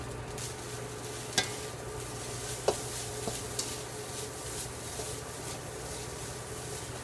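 Vegetables sizzle steadily in a large wok on an induction cooktop, with a low continuous hum and a few sharp clinks of a utensil against the pan.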